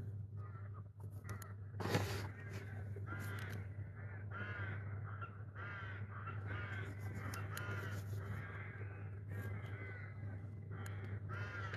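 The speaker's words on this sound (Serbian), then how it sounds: "Ne znam ja da li čujete ove gavrane" Ravens caw repeatedly beside the Sava river during a feeder fishing session, harsh calls coming in a steady series at moderate distance over a constant low hum.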